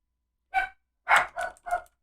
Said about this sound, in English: It's always good when your dog decides to bark when you're trying to record.